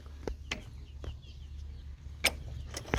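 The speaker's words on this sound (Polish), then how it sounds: "No więc jest ten kogucik szabo." A Shabo bantam rooster, black with a golden-silver neck, and hens cluck in short separate bursts over a steady low farmyard hum, with no one speaking.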